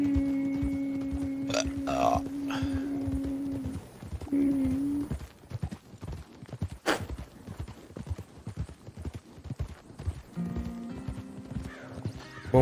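Horse hooves clip-clop at a steady walking rhythm in the online mode of Red Dead Redemption 2, with snorts and whinny-like noises and in-game tones layered over the steps.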